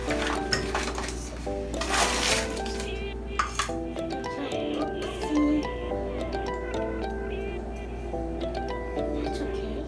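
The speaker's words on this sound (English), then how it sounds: "now we need a cup to scoop up the sugar" Sugar being scooped with a cup while baking white chocolate macadamia nut cookies, a steady run of clinks, scrapes and rattles of kitchenware close by, with a louder burst near the start.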